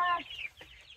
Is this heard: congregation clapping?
no